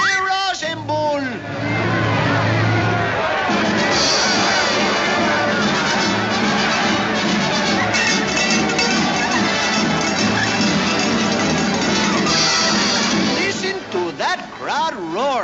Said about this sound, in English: Crowd roar.